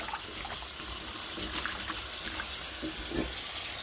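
A sweet potato is washed under a running kitchen tap, with a steady, close rush of water and faint splashes as it is handled beneath the stream, heard alone without talking.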